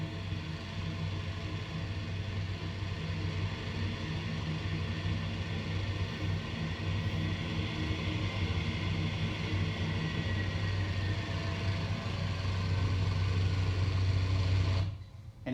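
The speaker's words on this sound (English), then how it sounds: "you can hear the wind in the wires" A Nieuport 11 biplane in flight, its engine drone steady and continuous with a faint whistle of wind through the bracing wires, holding level for about fifteen seconds before cutting off abruptly.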